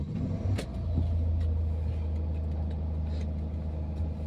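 Car driving, heard from inside the cabin: a steady low engine and road rumble, even and continuous, with no talk.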